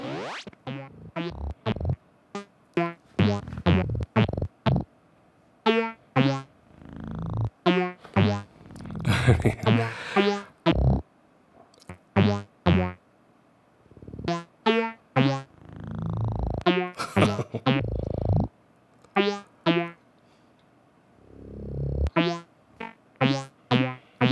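Bursts of pitched electronic tones from a modular synthesizer module cycle through changing timbres in quick succession, sweeping and stepping between distinct synthesizer voices with short gaps between phrases.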